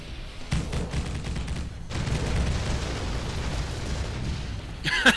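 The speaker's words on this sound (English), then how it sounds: "The Grenadiers just wiped out that bulldog turret in one single strike" Grenadier infantry fire a volley in the Rise of the Reds strategy game and destroy a Bulldog turret: a dense burst of rattling gunfire and explosive booms, loud and continuous, ending in a final sharp blast.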